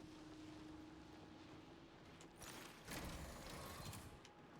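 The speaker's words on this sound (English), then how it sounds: "I should also close the shutter as well." A metal shutter closing in the Marathon video game, a low mechanical grinding and rattle that swells and then stops.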